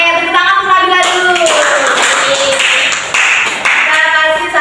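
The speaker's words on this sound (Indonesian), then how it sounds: "tepuk tangan untuk Nabila dulu" Students in a classroom clap for a classmate during a fiqh lesson, a brisk burst of many hands heard close and loud, with voices talking over the clapping throughout.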